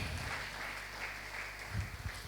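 A church congregation applauds during a Spanish-language sermon, a faint, steady wash of clapping from a distance with no single claps standing out.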